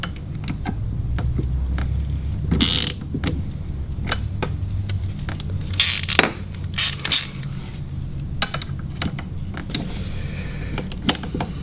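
Marine hydraulic steering end caps on a SeaStar unit being threaded and tightened by hand, giving a steady run of small clicking, ratcheting mechanical ticks, close and fairly quiet, with a few sharper bursts and no talking.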